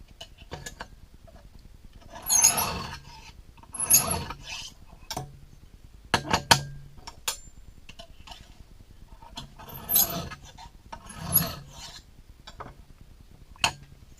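Knife edge drawn across a Lansky diamond hone in short separate strokes, light scraping rasps spaced apart with small clicks of the blade and clamp between them, close and quiet.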